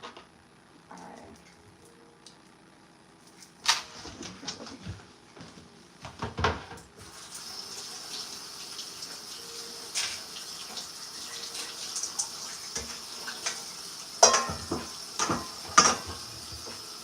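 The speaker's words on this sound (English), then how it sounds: "So I'm just going to clean this board real quick because I will have to use it soon for onions" Running tap water splashes over a cutting board being rinsed in a kitchen sink, starting after a few clunks and bumps and then flowing steadily, with intermittent knocks of the board against the basin.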